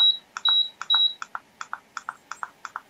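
A digital room thermostat sounds as its minus key is pressed over and over: a rapid run of short, sharp electronic beeps with a few longer tones mixed in, close and clear against a quiet background.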